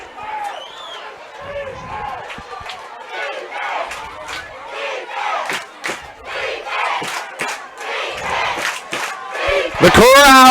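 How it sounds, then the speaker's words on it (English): Football crowd at Bob Parkins Field in Milan, Tennessee, on its feet cheering for the Trenton Peabody Golden Tide late in a game, a loud sustained roar with shouts and whoops throughout, swelling sharply at the end. "The crowd here at Bob Parkins Field in Milan, Tennessee for your Trenton Peabody Golden Tide is on their feet."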